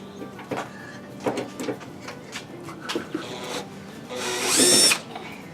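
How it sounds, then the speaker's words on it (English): A power drill backs screws out of the tail light panel on a Lexus LX470 tailgate, with short whirring bursts up close and a longer, louder whir at the end, among light handling clatter. "just going to use the drill, pull out these 3 bolts"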